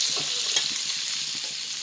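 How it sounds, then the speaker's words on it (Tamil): Fish roasts in a pan, producing a soft continuous sizzle broken by light scraping stirs and small clinks over a couple of seconds, with nobody speaking. "பண்ணக்கூடியாத மீன் ரோஸ்ட் பண்ணிட்டுருக்கேன்."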